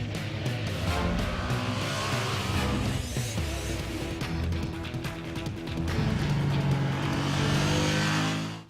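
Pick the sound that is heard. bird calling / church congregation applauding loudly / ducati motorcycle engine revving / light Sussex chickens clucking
ducati motorcycle engine revving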